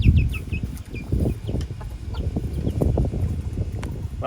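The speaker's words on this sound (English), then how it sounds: "The chickens absolutely love these things" Backyard chickens pecking at black soldier fly larvae, with close clucks, soft chirps and scratching, a few wing flaps, and higher peeps from young pullets, loud and continuous.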